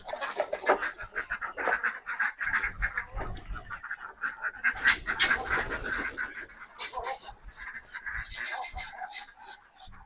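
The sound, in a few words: chickens clucking after being let out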